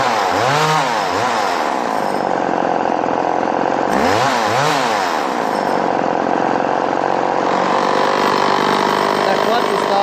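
A Polan Micro XXV chainsaw, freshly tuned and with a troublesome clutch, runs steadily and loudly up close, its engine revving up and down in two clear surges.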